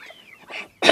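A short, sharp sneeze bursts out at the end after a faint intake of breath, close and fairly loud.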